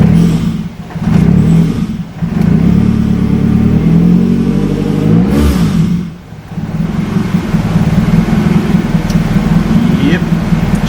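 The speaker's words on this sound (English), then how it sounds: "she idles a little bit low right now because it's dead cold" A car engine idles a little low because it is dead cold. It is loud and close, with the engine note dipping and swelling a few times.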